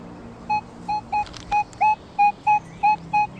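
A Minelab Equinox metal detector in a forest sounds a run of about ten short, even electronic tones at a steady pitch, clear and close, with no voices.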